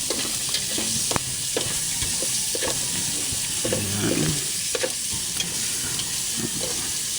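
Banana blossom stirred and frying in a pan for ginataang puso ng saging, a steady loud sizzle broken by repeated scraping stir strokes and knocks throughout.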